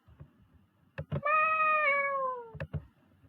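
A single drawn-out meow, falling slightly in pitch, rises clearly from a quiet room, framed by soft taps and knocks just before and after it.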